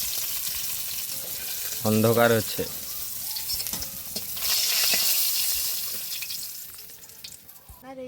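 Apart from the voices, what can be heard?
pabda fish frying in oil on outdoor stove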